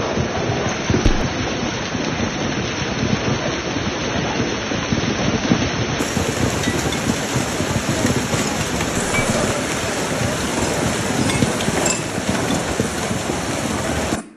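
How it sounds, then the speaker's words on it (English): Hail and heavy rain pound down during a thunderstorm in downtown Paris, France, a dense, steady roar of impacts that stays loud and unbroken throughout, with no voices. "So this is gorilla hail in downtown Paris in France."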